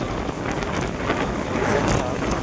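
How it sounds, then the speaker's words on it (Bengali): Strong wind buffeting a microphone on the open deck of a cruise boat, a constant loud roaring rumble with gusty fluctuations and faint water noise beneath. "প্রচন্ড হাওয়া দিচ্ছে, প্রচন্ড।"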